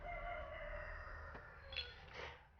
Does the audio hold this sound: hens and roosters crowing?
yes